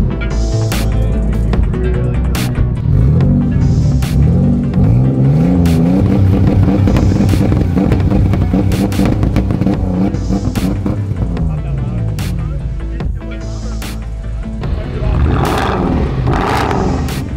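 Scion FR-S on air ride revving through two-step launch control, a loud, continuous throbbing exhaust with rising and falling engine pitch and sharp popping cuts, close to the microphone throughout.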